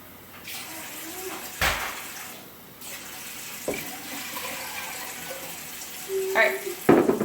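Cold tap water running into a soup pot for chicken soup, a rushing pour broken by a few louder clanks and splashes.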